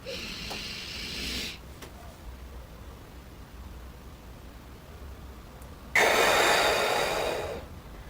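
Deep breathing during a breath exercise: a long breath at the start, a quiet pause, then a louder forceful breath near the end, close and alone.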